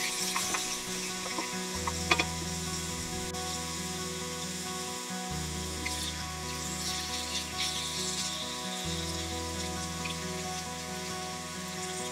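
Beef sizzles and fries steadily in a pan throughout, with scraping and stirring as a spoon tries to turn the meat, under a constant low hum.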